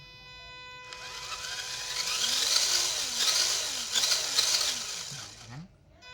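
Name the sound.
WPL D64-1 RC truck motor at half throttle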